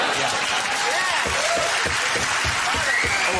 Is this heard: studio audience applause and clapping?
yes